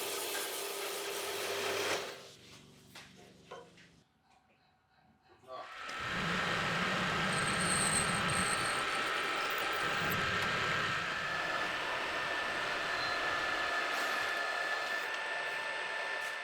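A slice is cut off a 50 by 50 mm square metal bar, with a steady, loud rasping saw that starts after a brief quieter pause and runs on without a break, close by.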